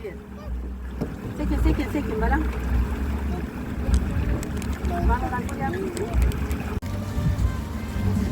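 A boat moving across water in Samarkand with a low engine rumble and wind noise, while people talk and a faint melody plays nearby.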